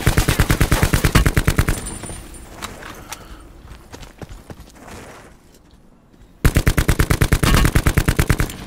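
Loud, rapid automatic gunfire from the video game Call of Duty Blackout bursts at the start, drops away to quieter ambient shots and rustling, then resumes in a long, fast rattling burst.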